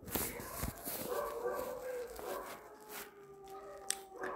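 Dogs barking in a home, with several sharp bursts scattered through a noisy, cluttered background that includes some voices.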